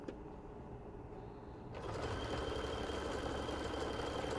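A sewing machine basting a knit band for a bralette runs close by in a steady, fast mechanical whir that starts softly and becomes louder and constant after a couple of seconds.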